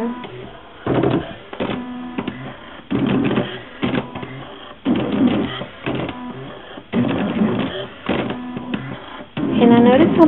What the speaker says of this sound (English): Press cut button on side of slice to begin cutting.